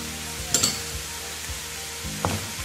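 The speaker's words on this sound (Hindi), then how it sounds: "इसको अच्छी तरह से मिक्स कर लेंगे" Chicken with garlic powder and salt is stirred in a pan over a low sizzle, with a few sharp scraping strokes of the spoon spaced apart; no voices.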